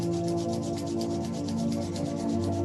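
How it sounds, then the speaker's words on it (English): Palms of the hands rubbed briskly together make a continuous, close swishing friction with a fast back-and-forth rhythm, fairly loud and heard on its own over a steady low hum. "So we're going to finish just by rubbing the palm of the hands together."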